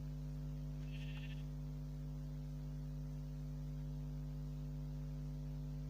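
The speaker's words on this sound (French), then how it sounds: "Deux moutons." A single short sheep bleat from the Minecraft video game, heard once over a constant loud mains hum, with no talk.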